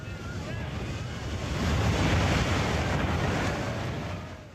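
A tsunami surge of torrential water, mud and debris rushing ashore, heard as a continuous broad roar that swells toward the middle and stays loud throughout.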